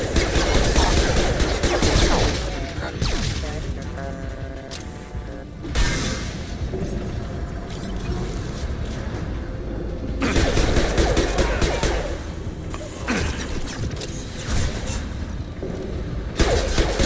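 Sustained firefight from hostiles in Mass Effect 2, dense overlapping gunfire and impacts rolling on and off across the span, with heavy bursts, brief quieter gaps, and occasional voices beneath.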